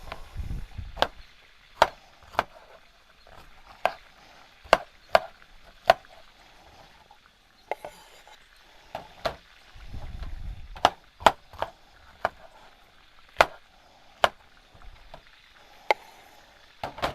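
A knife chops bell pepper into julienne strips on a board, giving sharp, close, evenly spaced cuts that come in quick bursts with short pauses between them, and no talking.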